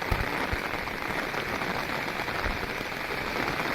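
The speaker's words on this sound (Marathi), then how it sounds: "पाऊस पडतो आहे" Steady rain hisses continuously, an even wash of falling drops with no voices.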